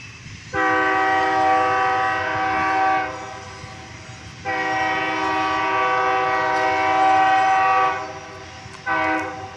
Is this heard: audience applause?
no